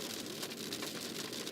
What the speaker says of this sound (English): we're getting a little bit more of that rain really falling on the storm chaser here, Niz.